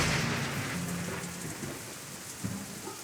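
Steady rain pours with a low rumble of thunder in the visual novel Katawa Shoujo, a dense hiss filling the scene throughout, with a faint soft knock near the end.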